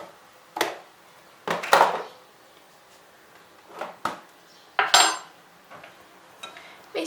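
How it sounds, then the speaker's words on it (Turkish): A spoon clinks and scrapes against a bowl while a lor cheese filling is mixed with pepper flakes and black pepper, in a few separate bursts with quiet gaps between. "şimdi iç harcımı güzelce harmanlıyorum"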